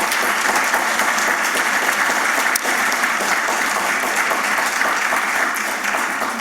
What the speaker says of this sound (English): we need to give, a rousing clap for the chair for a very good seminar that we've had